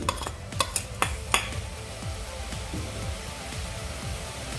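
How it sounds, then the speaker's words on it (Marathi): Chopped jaggery is stirred into cooked dal for puran poli. A spoon clinks and scrapes against the pot several times at first, then settles into softer, continuous stirring through a faint simmer. "आता आपण हा गूळ या डाळीमध्ये घालून घेऊयात"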